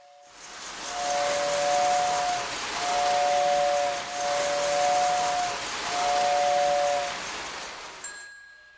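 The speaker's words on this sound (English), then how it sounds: "they added a whistle, not a diesel horn" A Lionel toy steam-type train whistle blows three sustained, fairly loud chords in a row over a steady hiss of steam, each blast about a second and a half long, with brief dips between them and a short click at the end.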